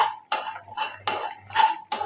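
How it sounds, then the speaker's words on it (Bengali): Coriander, dried chilli and panch phoron are stirred in a dry pan without oil, with a spatula scraping and tapping against metal in about six distinct strokes. "তেল না দিয়েই শুকনো কড়ায় নেড়ে চেড়ে ভেজে নেব"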